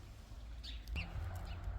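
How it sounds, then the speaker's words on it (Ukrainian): Birds chirping outdoors in a spring garden, a few short calls at moderate distance over a steady low rumble of background noise, with no talk. "Боже, як приємно знову чути пташок бджолок наших,"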